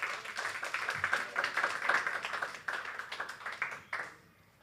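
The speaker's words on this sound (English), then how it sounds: "Please give her a clap." A quiz audience applauds a contestant at a school inter-house nutrition and healthy lifestyle quiz. The clapping is dense and steady for about four seconds, then dies away.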